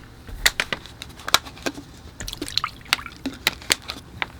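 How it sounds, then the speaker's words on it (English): Muddy paint water left from oil painting is tipped out of a bucket in a series of close splashes, drips and trickles, irregular and moderately loud. "I'll empty my water bucket, because you can see how muddy that water is now"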